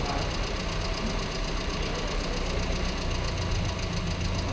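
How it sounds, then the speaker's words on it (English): A carburetted car engine idles steadily up close while running slightly rich, giving a continuous low, rumbling drone with a faint knocking texture throughout and no talking. "just hear the idle just came down, just took a dive"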